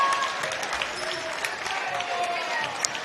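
A crowd at a high school volleyball match between North Eugene and Crater cheers and applauds loudly after a point, a sustained roar of clapping and shouts with a commentator's voice faintly running underneath.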